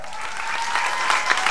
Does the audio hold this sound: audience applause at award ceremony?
yes